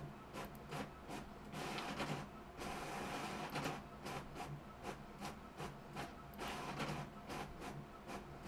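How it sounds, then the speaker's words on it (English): A printer runs nonstop, printing the same page over and over, with rhythmic mechanical feeding, clattering and rubbing cycles that repeat steadily at close range and with no talking. "I think my printer's broken. I think it just printed the same thing like millions of times."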